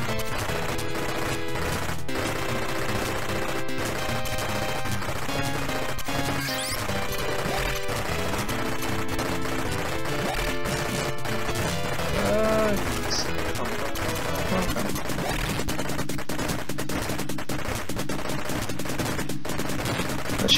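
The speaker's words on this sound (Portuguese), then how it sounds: "tiro pra todo lado" Rapid gunfire and machine-gun bursts from the 1985 Capcom arcade game Senjō no Ōkami, crackling steadily over looping chiptune music with occasional explosion-like crashes throughout.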